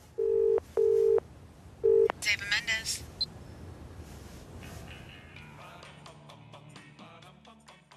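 Three loud telephone keypad tones in a quick sequence, followed by other tonal sounds and a voice speaking.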